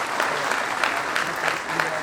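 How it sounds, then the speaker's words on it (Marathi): An audience claps together in dense, steady applause throughout, loud and continuous at a product presentation on organic farming. "याच्याकरता एकदा जोरदार टाळ्या होऊन जाऊ दे."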